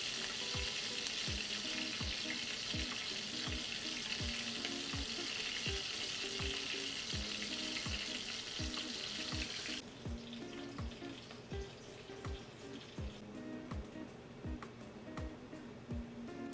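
Mushrooms fry in a pan over medium-high heat, giving a continuous close hiss and sizzle, with a steady pattern of regular light ticks running throughout.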